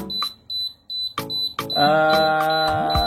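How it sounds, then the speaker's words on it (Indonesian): A diesel generator set sounds its alarm after three failed start attempts: short repeated beeps and cranking bursts, then a loud continuous buzzing alarm tone with harmonic layers, close and steady. "genset start 3 kali tapi diteruskan dengan alarm seperti ini"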